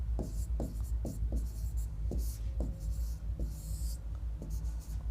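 Pen strokes on paper as someone writes, a series of short scratchy strokes at an uneven rhythm, close against a steady low background hum, no talking.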